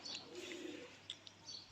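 A domestic golden pigeon gives soft, faint, low cooing close by in a quiet setting, with a few light chirps behind it.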